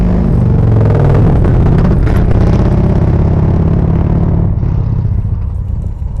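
An Evercross H5 electric scooter rides along with a loud, steady rumble of motor and road noise, heavy wind buffeting and rattling throughout, with no talking.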